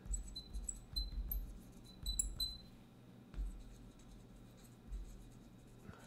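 A pen writes out a chemistry exam answer on paper, soft scratchy strokes in short irregular bursts with small taps, close and quiet against a faint room hum.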